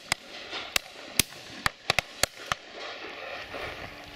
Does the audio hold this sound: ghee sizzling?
no